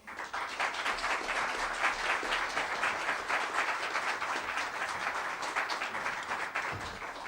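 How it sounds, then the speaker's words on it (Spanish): An audience at a formal lecture event applauds to welcome a guest onto the stage, dense, even clapping that starts abruptly and carries on for several seconds before thinning toward the end. "les pido un fuerte aplauso"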